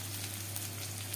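Onion and ginger frying in hot oil in a home kitchen make a steady, close sizzle over a low electrical hum, with no voices.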